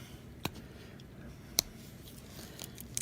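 Small scissors on a pocketknife snip a few times, with sharp, crisp clicks: one, then another about a second later, then a couple of lighter ticks near the end, all close up in a quiet room.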